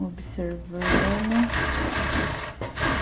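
Sewing machine stitching the lining of a plus-size swimsuit, a fast continuous mechanical whir running under a voice speaking Portuguese.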